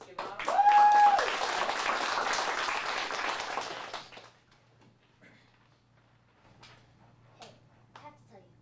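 Audience at a teen showcase claps loudly for a young monologue performer, a dense burst of applause with a whistle that stops abruptly after about four seconds, leaving quiet room noise and faint voices.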